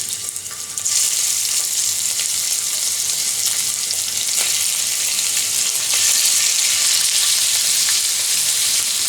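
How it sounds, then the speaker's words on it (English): Diced sandhill crane thigh meat fries in a hot pan with a steady, loud, close sizzle that swells slightly partway through, no voices over it. "So I took the thigh and diced it up, and we're going to fry this up"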